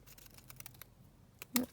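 Scissors snip through laminated paper, a couple of soft, brief cuts closing with one louder crisp snip near the end; quiet and close, with no talking.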